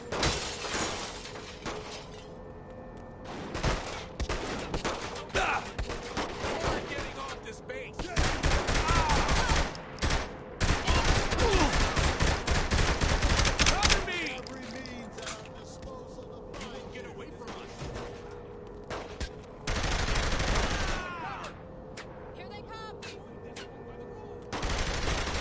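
Repeated loud bursts of automatic gunfire and shattering in Saints Row The Third Remastered, heavy sustained volleys with short lulls, mixed with voices talking over the action.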